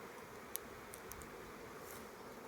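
A swarm of bees hanging at an apiary hums as a low, steady, faint buzz with no talk and one or two tiny clicks.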